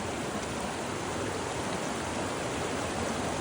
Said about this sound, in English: It's a beautiful creek here